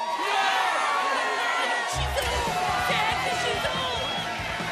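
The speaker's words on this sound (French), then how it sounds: "déchaînant les acclamations de la foule" Animated arena crowd roars and cheers, a dense, loud wash of voices that swells into heavier rumbling partway through and holds steady to the end.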